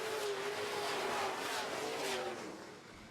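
Super trucks roar back to speed on a short-track restart, a loud close engine drone with a rising whine passing by, then fading slightly toward the end.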